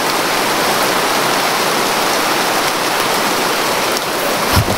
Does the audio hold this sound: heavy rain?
yes